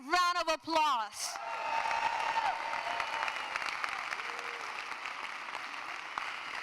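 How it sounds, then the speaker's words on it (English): A crowd claps for a New York City State of the City address. A short spoken phrase comes first, then broad, steady applause carries on for the rest of the clip at moderate distance. "Come on, New York City, let's give it a big round of applause."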